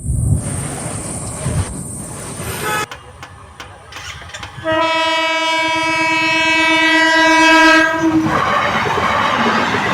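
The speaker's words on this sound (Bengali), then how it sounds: "ট্রেন আসছে এই কারণে এখানে গেট পড়েছে" A train passes a level crossing with its gates down, rumbling past loudly and close before a long, sustained horn blast rings out over the rolling wheels, then fades to the passing cars.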